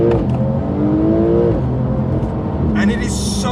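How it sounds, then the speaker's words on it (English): Porsche 992 Carrera S with a 3-litre twin-turbo flat-six accelerating hard, its engine note climbing in pitch, dipping at a gear change, then pulling again, loud and close with a brief high whine near the end. "heart of this engine is the flat 6 twin turbocharged 3-litre engine, which sounds glorious"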